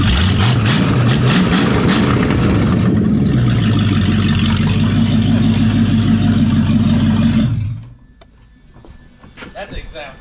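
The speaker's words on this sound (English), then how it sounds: "What exhaust job would be complete without open header sound?" A 1968 Ford Mustang with open headers revs loudly and close, its raw engine roar swelling and holding for several seconds before cutting off sharply into quiet idle-level noise.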